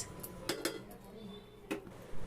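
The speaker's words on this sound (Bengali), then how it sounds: "ভাতটা এতে গরম থাকে সেই জন্য ঢাকা দিয়ে রেখে দিলাম" A lid is set on a pot of freshly cooked jeera (cumin) rice: a few sharp metallic clinks and knocks of kitchenware, close and fairly loud, with quiet gaps between them.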